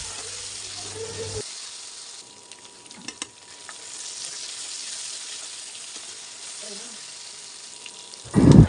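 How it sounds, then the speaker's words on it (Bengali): Onions fry in oil in a karahi as the base for a fish curry with ginger-garlic paste, giving a steady close sizzle throughout that swells into a louder burst at the end. "মাছগুলো রান্না করার জন্য কড়াইতে তেল পেঁয়াজ দিয়ে দিয়েছি।"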